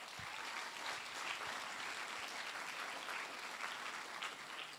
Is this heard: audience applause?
yes